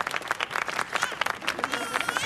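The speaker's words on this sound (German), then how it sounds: "einen ganz herzlichen Applaus für unsere jungen Künstler hier" Audience applauding young performers at a celebration, a brisk, fairly close clatter of many hands with irregular peaks, mid-level in volume, with some voices mixed in.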